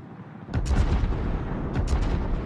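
Ship cannons firing in a naval video game: heavy, booming shots rolling over one another into a dense, rumbling barrage, with a second cluster of blasts toward the end.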